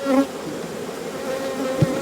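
Honey bees buzz around an open hive in late season, with goldenrod honey in the top box, a dense close swarm hum steady throughout, with a brief louder thump near the end.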